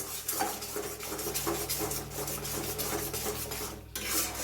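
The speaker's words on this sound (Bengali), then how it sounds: "বাদাম দেওয়া আছে, তাই খুব ভালো করে নাড়াতে লাগবে যাতে তলায় না লেগে যায়" A spoon rasps and scrapes steadily around a pan as a thick poppy seed, cashew, almond and peanut paste for Bengali murgh musallam is stirred, with close, continuous rubbing and occasional metallic scrapes.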